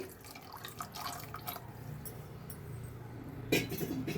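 Water is poured over washed beans in a cooking pot, a soft running trickle and drip with a few light clinks, close and moderately quiet with no speech.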